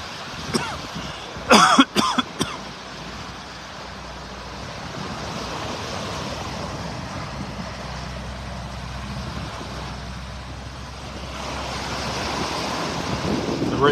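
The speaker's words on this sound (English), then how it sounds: "it wouldn't be a beach walk without coughing." A short burst of several harsh coughs from red tide near the start, then a long stretch of wind buffeting and distant surf on a beach in North Naples, Florida.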